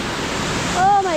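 Pokali waterfall roars as a constant loud broadband rush close by, while a brief voice sounds over it near the end.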